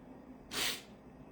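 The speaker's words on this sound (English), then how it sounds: "I think I'm going to sneeze." A single short human sneeze bursts out as a sharp, breathy hiss lasting about a third of a second, loud against a quiet room.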